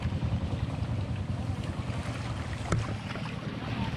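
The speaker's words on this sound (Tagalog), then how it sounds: "Ayan yung bangka o, nakakadiretso pa o." A boat moving across the sea close to a beach at high tide, a steady low rumble mixed with wind and water wash, fairly loud and continuous with no talk.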